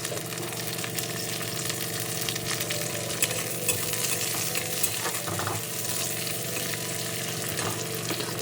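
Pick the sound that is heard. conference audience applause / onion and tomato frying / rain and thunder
onion and tomato frying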